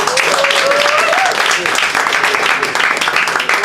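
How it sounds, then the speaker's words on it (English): Audience applause at a fringe stage show, a dense steady wash of clapping across the room with voices and cheering mixed in throughout. "Another round of applause"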